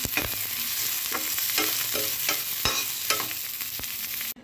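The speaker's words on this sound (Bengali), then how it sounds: "পেঁয়াজটা কিন্তু হালকা ব্রাউন কালার করে আমি ফ্রাই করে নেব" Onion frying in oil in a pan toward light brown: a continuous close sizzle, broken by a string of sharp spoon scrapes and knocks at an irregular pace.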